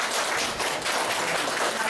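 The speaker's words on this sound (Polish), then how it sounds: "duże brawa" A crowd at an art exhibition opening claps steadily in dense, continuous applause, loud and close throughout.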